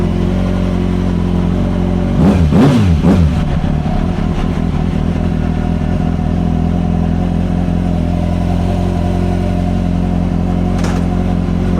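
Kawasaki motorcycle engine firing up with a short burst of revving, then settling into a loud, steady, throbbing idle that runs on alone.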